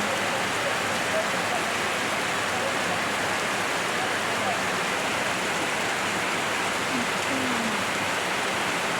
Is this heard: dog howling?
no